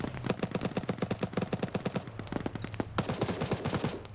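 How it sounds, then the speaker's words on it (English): Machine gun fire from a BTR armored vehicle in a PvP video game, with rapid, loud bursts of repeated shots that pause briefly around the two-second mark and then resume in tight volleys. "You're hearing that BTR, it's repositioned."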